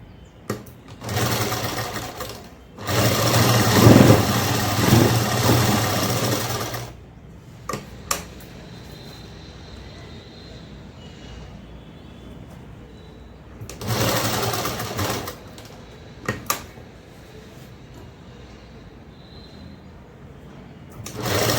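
Two bursts of fast, rhythmic stitching from a sewing machine sewing the open edges of cloth, each a few seconds long and close by, with quiet pauses, fabric handling and faint clicks in between.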